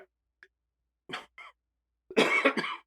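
A person coughs indoors, with a couple of faint short coughs followed by a louder, fuller burst near the end, set against near silence.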